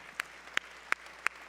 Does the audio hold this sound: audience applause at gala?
yes